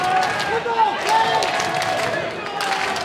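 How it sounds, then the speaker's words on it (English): A wrestling crowd at a PCW Ultra match keeps up a rhythmic Terminator-style clap, with steady broadband bursts of clapping and cheering from the arena all through, a busy and moderately loud mass of hands and voices. "you could hear that Terminator-style clap, that rhythm coming from the crowd here at PCW Ultra"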